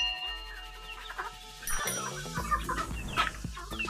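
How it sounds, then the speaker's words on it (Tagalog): Five four-month-old young male chickens cluck and chatter close by in a pen, with short repeated calls that grow busier and louder halfway through over a low background hum. "Ito pala yung yung 5 sisiw ko na medyo malalaki na eh."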